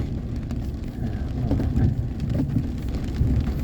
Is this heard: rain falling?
yes